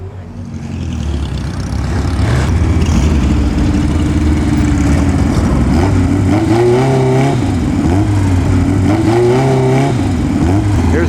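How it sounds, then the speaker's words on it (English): Historic Grand Prix race cars and other vintage Porsches, including a Spider and a Carrera speedster, roll past at a classic car show in a steady loud engine drone with rising and falling revs, no talk over it. "including the Grand Prix cars"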